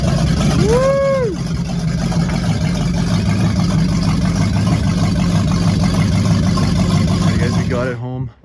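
A 1966 Oldsmobile Cutlass with a built 425 engine rumbles loudly at close range as it comes off a trailer, a steady engine drone with a rising whine early on, ending abruptly.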